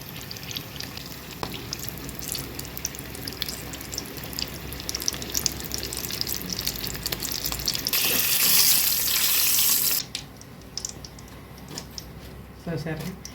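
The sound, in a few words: chilli bajji frying in hot oil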